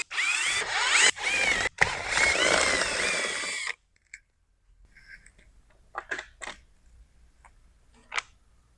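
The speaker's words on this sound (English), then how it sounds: "So we're going to go ahead and remove these 3 screws now." Power screwdriver whirring briefly to back out screws from the factory velocity stacks on a Kawasaki ZX-10R, a close buzzing burst followed by quieter clicks and small taps.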